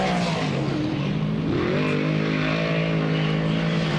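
Dirt late model race cars roar off at the green flag at Georgetown Speedway, engines revving loudly and rising in pitch together, a dense, continuous pack of motors close by with no talk over it.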